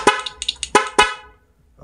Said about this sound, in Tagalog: ayan, stock horn, parang stock lang siya